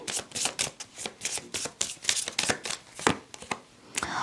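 Tarot cards are shuffled by hand in quick, crisp riffling bursts, repeated about a dozen times at a brisk uneven rhythm, close and clear with no talking.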